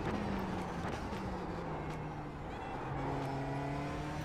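McLaren 570S GT4 race car engine in iRacing, revving steadily with rising and falling whine, a continuous near engine tone that dips briefly then climbs again.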